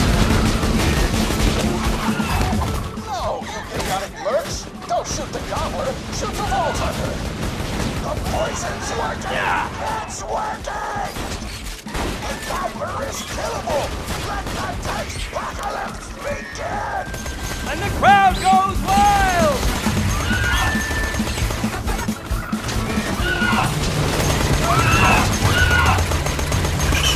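Chaotic combat in Borderlands 2 with continuous gunfire, impacts and crashes layered under game noise and voices throughout, loud and busy without pause.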